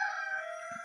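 Rooster crowing, a single sustained crow held steady through the moment, moderately loud with a faint low rumble beneath and no talk.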